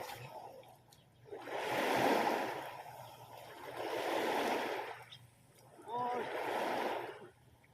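Sea waves wash onto a beach in three slow surges, each swelling and fading back to a quiet hiss, fairly faint and steady.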